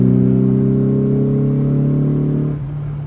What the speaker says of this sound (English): Now if we go from quarter and we go to full throttle